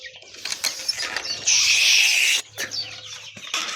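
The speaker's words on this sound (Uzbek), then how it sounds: "Bu yoqda xo'rozlarimiz ham bor, adlerskiy xo'rozlar." Adler breed roosters and hens clucking and calling at a poultry sale, close and fairly loud, with a sustained harsh cry in the middle and scattered clucks around it.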